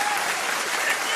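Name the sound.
applause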